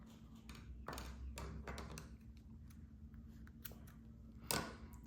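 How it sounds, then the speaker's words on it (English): Scissors snip black yarn during a crochet ladybug project, giving a few short, sharp cuts close by against a quiet room, with one louder snip near the end. "you want to go ahead and cut your black yarn."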